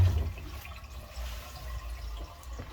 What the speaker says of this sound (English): you have a constant flow of water like this